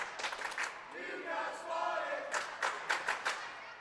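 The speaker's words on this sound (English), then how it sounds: "You probably heard their chants there." A high school student section chants rhythmically from the stands at a girls basketball game, Crestline at Lucas on senior day, a sustained crowd of voices heard at a distance with gym noise.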